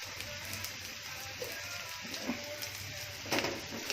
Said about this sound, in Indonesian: Setelah harum, nanti kita masukkan bumbu yang sudah dihaluskan tadi.